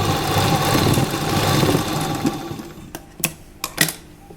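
Sewing machine running steadily while stitching the side seam of an A-line kurta, a continuous close motor hum for over two seconds, then stopping into a few sharp clicks and fabric handling.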